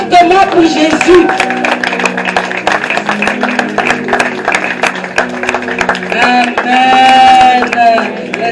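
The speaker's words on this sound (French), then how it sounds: "Et j'aimerais que vous applaudissiez fortement pour Jésus." A church congregation at a Sunday worship service claps loudly and steadily, many hands together in a dense patter, with singing or music carrying on underneath.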